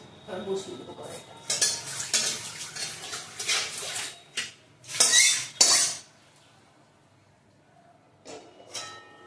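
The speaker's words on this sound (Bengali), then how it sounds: "কড়াইটা ধুয়ে বসিয়ে দেবো।" A wok is rinsed and set down on a home kitchen stove, with bursts of running water, metallic scraping and clanks in short bursts, then near silence with a few faint knocks.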